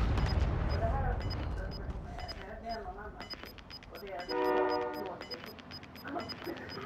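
A train in a video game sounds a horn-like blast amid repeated sharp clicks and gunfire-like pops, heard under and between people talking over the game.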